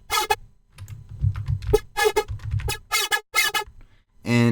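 Short, buzzy Serum synth bass notes stab in an uneven rhythm, their tone swirling and comb-like as a flanger filter sweeps through them.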